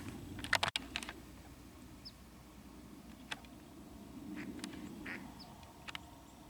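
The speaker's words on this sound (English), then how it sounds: "Coots." Coots, or mud hens, call out on the water near a shoreline fishing spot: sparse, short, distant quacking calls over a faint, quiet background, with a few sharp clicks nearby.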